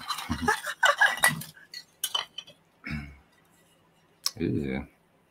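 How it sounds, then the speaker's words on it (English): Vintage Christmas decorations clink and clank in short, bright metallic and glassy knocks, scattered among bursts of someone talking and laughing nearby. "I know all this clinking and clanking."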